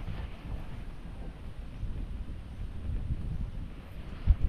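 Wind blows steadily into the microphone outdoors in the aftermath of a typhoon, a low continuous rushing buffet with a few thumps near the end and no talking.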